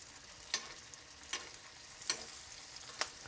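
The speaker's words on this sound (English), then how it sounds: "So we've heated our steak back up with our hot butter and oil" Steak sizzles in hot butter and oil with fried herbs and garlic, a steady crackling fry broken by four sharp spoon scrapes or clinks at even intervals, close and fairly quiet.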